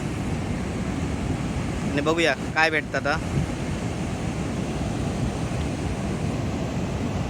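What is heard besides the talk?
sea waves and wind on the Konkan coast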